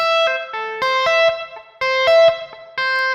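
Distorted electric guitar notes played in short phrases, each note sharply plucked off so it snaps to a lower pitch, with brief silences between runs.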